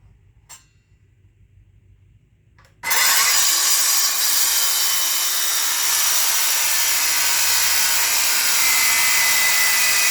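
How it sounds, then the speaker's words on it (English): A battery-powered saw cuts through the center of apple or beech wood for saw handles. After a quiet start it kicks in abruptly with a loud, continuous, rough buzzing whine that runs steadily to the end. "I do this with a preliminary saw cut through the center"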